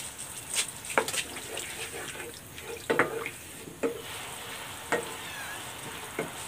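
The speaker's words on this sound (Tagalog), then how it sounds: "Lagyan natin ng tubig." Water poured into a pan of eggplant with oyster and sweet chili sauce, sizzling and stirring with several sharp clinks of a utensil against the pan, steady frying hiss throughout.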